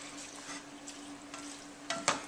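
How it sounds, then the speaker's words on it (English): Salsa and ground turkey stirred in a frying pan, with a faint steady sizzle under a low hum and a couple of sharper scraping strokes near the end, no talking. "So we're just going to stir all that up."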